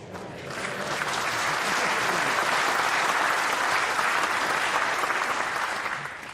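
A large Conservative Party conference crowd applauds after a line in a speech, the clapping swelling quickly into a broad, sustained roar of many hands that holds steady before easing off, with no voice heard over it.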